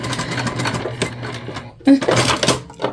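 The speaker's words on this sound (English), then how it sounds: "we're gonna sew all of the panels just like that" Sewing machine stitching fabric bag panels for a small crossbody bag, running in steady mechanical bursts with a brief pause in the middle.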